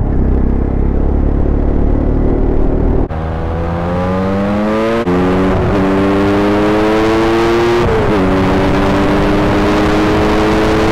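Bajaj Pulsar N250 motorcycle being ridden, its engine note rising through the gears with steady revving and brief dips at each shift, loud over a constant wind rush.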